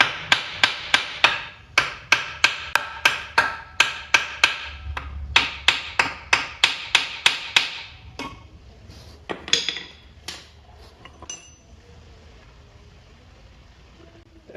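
A hammer strikes a rusted bolt on a 1940 vehicle to break the rust seal, ringing out in a fast run of around twenty sharp metallic blows, close and loud, then a few scattered taps fading to quiet.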